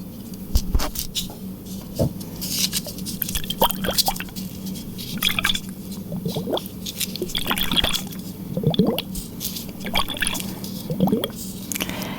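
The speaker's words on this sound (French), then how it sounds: "je vais vous servir une carafe d'eau gratuite" Water poured from a carafe in a tea-salon setting, splashing and dripping in close, uneven bursts with soft liquid squishes, heard alone without talk.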